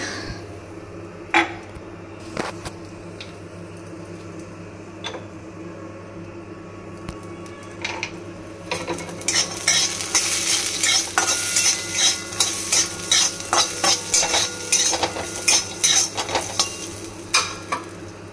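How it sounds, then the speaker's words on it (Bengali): Peanuts frying in oil before going into a potato curry, starting as a quiet hiss with scattered clicks, then a louder, dense crackling sizzle and rattling stirs against the pan for the last half. "বাদামগুলোকে আগে ভেজে নেব"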